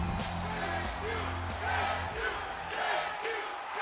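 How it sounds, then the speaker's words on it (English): A virtual arena crowd in the wrestling video game WWE 2K25 chants rhythmically in support of a wrestler, a steady, moderately loud mass of voices rising and falling in repeated beats. "And while huge Chase U chants from this crowd rallying behind Andre."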